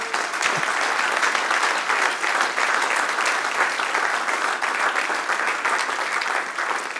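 A church congregation applauding during a sermon, dense continuous clapping that stays loud and even from start to finish with no talk over it.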